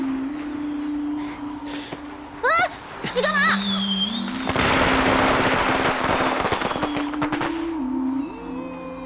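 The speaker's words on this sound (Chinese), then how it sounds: "我只是想看个烟花嘛" Fireworks go off as a dense burst of crackling bangs lasting several seconds, preceded by whistling rising sounds, with voices and background music around them.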